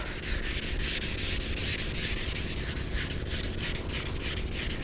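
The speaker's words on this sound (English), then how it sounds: "I like to sand on a 45 degree, kind of like that" Hand sanding of flat black Rust-Oleum Turbo spray paint ahead of a gloss 2K clear coat: continuous close, gritty rubbing in quick back-and-forth strokes, steady and moderately loud.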